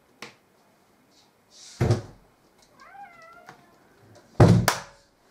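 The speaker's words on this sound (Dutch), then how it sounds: "Yo mensen, de kat is binnengekomen" A cat meows several times as it comes indoors, short clear calls near the listener, separated by a couple of sharp door or cupboard thumps.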